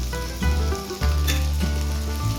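Spice paste with mustard frying in a pan for a vegetarian okra mustard-poppy seed dish gives a loud, steady sizzle with heavy low rumble and a few bumps where it is stirred, with no talk.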